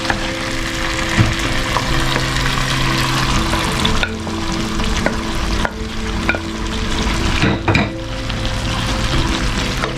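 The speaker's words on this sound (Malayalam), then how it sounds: "ഈ അരപ്പ് ഈ ചിക്കനിലിട്ടിട്ട് നന്നായിട്ടൊന്ന് യോജിപ്പിച്ചെടുക്കണം" Chicken being stirred with ground masala paste in a pan, a continuous loud sizzle and fry with repeated scraping strokes of a spoon throughout, no voices.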